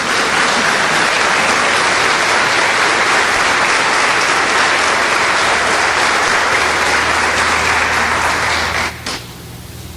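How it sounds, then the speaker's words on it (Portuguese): Loud, dense applause from a standing church congregation, sustained and even for about nine seconds before abruptly dropping off into quieter room sound. "Fique de pé, vamos aplaudir o nosso Deus."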